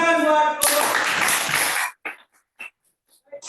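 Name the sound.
classroom applause for a student group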